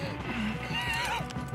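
A temperamental horse in the video game Red Dead Redemption 2 gives a loud, close whinny over the clip-clop of hooves, with faint game dialogue and background sound around it.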